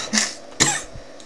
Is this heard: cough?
yes